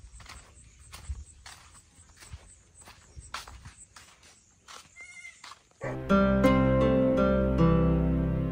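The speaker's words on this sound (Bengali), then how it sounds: "দেখে নেওয়া যাক ছাগলগুলো কি করছে এই রোদ্দুরে" Goats on a farm on a hot, sunny day bleat near and loud in several quavering calls after a stretch of shuffling hoof steps and light knocks.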